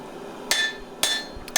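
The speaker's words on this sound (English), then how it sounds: "giving it a hammering on the side just to see if the bars have actually welded" Three sharp hammer blows ring out on the side of a forge-welded Damascus steel billet of four bars stacked together, evenly spaced and fairly close, with a bright metallic ring and a faint low hum underneath.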